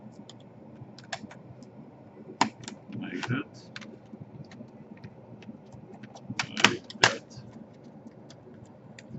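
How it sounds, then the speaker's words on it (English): Light clicks and snaps while a Lenovo G470 laptop keyboard is pried up, with scattered plastic ticks, a few sharper pops and a scraping sound, close up under brief quiet speech. "So here we wanna pretty much raise up this keyboard"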